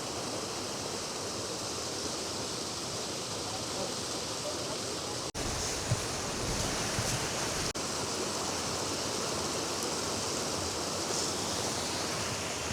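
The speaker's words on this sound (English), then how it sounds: "this footbridge here at Edith Creek is actually the top of Myrtle Falls" Water rushes steadily over the top of Myrtle Falls on Edith Creek beneath a footbridge on a rainy winter day at Paradise, Mount Rainier, a dense, continuous close roar with no pauses.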